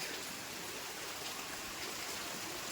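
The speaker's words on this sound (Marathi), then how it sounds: "बाहेर असा थोडं थोडा रिमझिम रिमझिम रिमझिम रिमझिमपेक्षा जास्त पाऊस पडतोय" Rain pours steadily outside a rural Konkan village home, a dense, even hiss of falling water that stays constant and fairly loud throughout, with no voices.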